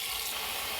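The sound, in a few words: water running to cover octopus in pan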